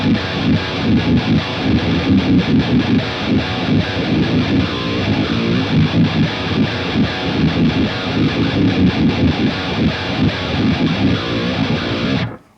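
Heavily distorted electric guitar through an EVH 5150-style amp model, a dense, loud chugging riff that stays saturated and continuous until it cuts off abruptly near the end, with no talking.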